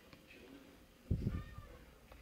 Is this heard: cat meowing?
yes